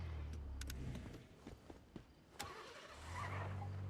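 A vehicle engine in the Once Human video game hums low and steady, dips to quieter clicks and thumps in the middle, then swells again as the truck picks up speed.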